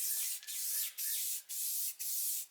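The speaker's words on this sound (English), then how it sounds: "Now it's time to give her a good coat of semi-gloss Rust-Oleum." Semi-gloss Rust-Oleum paint is sprayed from an aerosol can onto a part of a 1968 Pontiac GTO, five short close hissing bursts separated by brief pauses.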